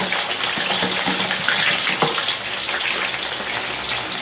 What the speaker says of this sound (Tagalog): Iprito naman natin yung dilis